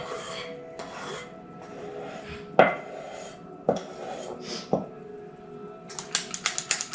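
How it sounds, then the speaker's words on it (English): Muffin batter scooped into a muffin mold, heard as scraping and a few sharp clinks of a utensil against the bowl and mold, ending in a quick run of light tapping knocks. "I'm gonna do a really good job of scooping all of this batter into my last muffin shape"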